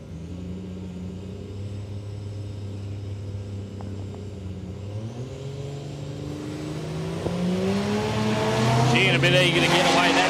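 Drag racing cars at Palmyra Raceway idling low, then revving and launching down the strip, the engine roar building louder with rising pitch while a commentator talks over it.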